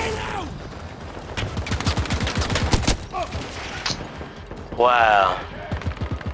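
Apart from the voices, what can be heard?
handgun gunfire in the video game Battlefield 2042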